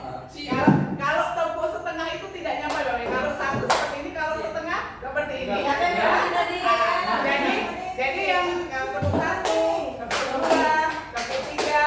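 A school training session in Indonesia where a presenter demonstrates a full clap and a half clap, with several sharp hand claps scattered among steady talking and some group chatter.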